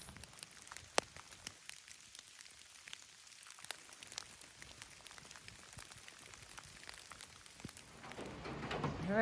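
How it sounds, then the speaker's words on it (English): Rain falling on a morning in the Great Smoky Mountains along the Appalachian Trail, scattered drops pattering irregularly on a surface, quiet and sparse, swelling into a denser rustle toward the end. "All right, it's raining."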